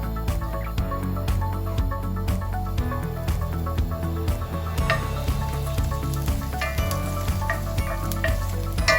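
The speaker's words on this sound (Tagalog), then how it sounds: "When the oil is warm, add the garlic." Minced garlic sautéing in warm cooking oil in a pan, a steady soft sizzle with occasional crackles and light stirring scrapes throughout, close and fairly quiet.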